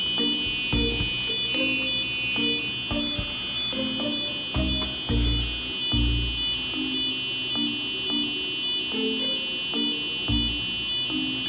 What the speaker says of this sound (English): that's the sound, the tone that we have configured in our Arduino Uno code.